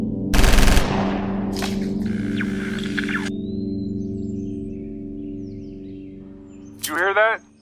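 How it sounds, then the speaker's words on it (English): Loud burst of movie gunfire rips out at the start, followed by a shorter blast and a lingering ringing tone, then a fading hum and a brief sweeping electronic chirp near the end. "Gunfire from the east."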